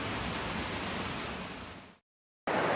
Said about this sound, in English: this is the second fastest river in Scotland